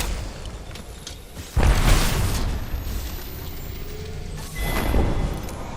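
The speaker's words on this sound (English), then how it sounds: "This is Grenade." A grenade goes off in a ranked video-game match, a sudden loud boom followed by a rumbling tail, then a second blast-like swell a few seconds later.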